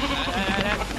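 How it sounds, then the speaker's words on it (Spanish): A sheep giving one short, loud, close bleat outdoors. "¡Oye, la oveja!"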